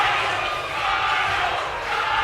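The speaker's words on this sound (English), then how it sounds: "have a listen to the crowd here as well." A crowd at a gridiron football game in Queensland roars and chants in a sustained wall of voices, swelling and dipping slightly across the stands.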